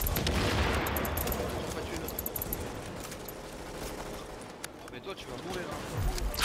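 Shotgun and other gunfire in the video game The Division, a dense run of loud blasts and shots under constant excited talk from players.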